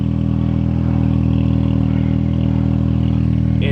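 An Audi TT engine idling close by, a steady, loud mechanical hum with even low rumble and faint clatter, holding constant without clear revs.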